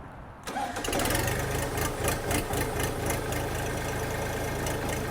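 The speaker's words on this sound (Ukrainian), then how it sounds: "І ви вже чуєте, як працює двигун" A 2022 Xingtai 240 mini tractor's diesel engine catches after a brief quiet moment and settles into a loud, steady rhythmic chugging idle close by, its firing pulses even throughout with no talk over it.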